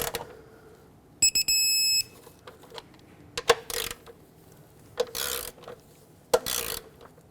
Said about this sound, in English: now let's torque them to 89 inch-pounds in the same sequence